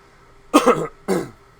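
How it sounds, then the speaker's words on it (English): Two sharp, close coughs in quick succession, the first longer and rougher, then a shorter one, against a quiet background. "I don't mean to keep coughing."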